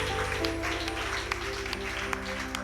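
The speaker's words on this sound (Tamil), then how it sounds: "கைத்தட்டி கர்த்தரை மகிமைப்படுத்துவோம்." A church congregation at a promise service claps hands together, a dense, continuous burst of many hands at close range over a sustained musical drone.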